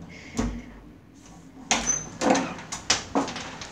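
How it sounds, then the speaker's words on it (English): An indoor door opens at night in a quiet room, with a few separate knocks and bumps of handle and frame, several sharp transients spaced about a second apart, fairly close, and no talk. "I don't even want to open the door, but I guess I have to."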